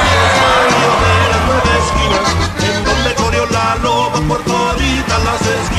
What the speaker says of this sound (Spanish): Y que se oigan los gritos de la raza